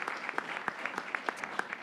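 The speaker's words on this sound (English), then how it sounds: "We'll probably stop applauding at this point" Audience applause in a conference or panel discussion hall, steady scattered clapping at a moderate distance, fairly quiet and alone without talk.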